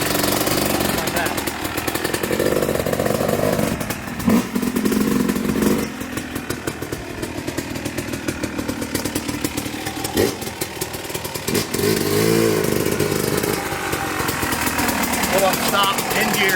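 Vehicle engine running loud and steady while it pulls away in gear without the clutch, with rough, knocking mechanical chatter throughout and a voice talking over it.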